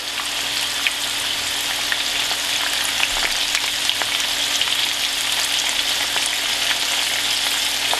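Okra frying in a pan for a Southern fried okra dish, a loud, dense and continuous sizzle with scattered crackling pops that holds steady throughout, close up and with no voices.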